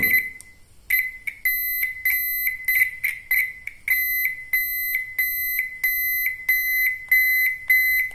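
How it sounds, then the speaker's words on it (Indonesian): A shrill electronic car turn-signal flasher buzzer pulses steadily in a fast repeating on-off rhythm, loud and close, with no other sounds. "nah ini untuk mobil Ford atau sedan kurang lebih suaranya seperti itu"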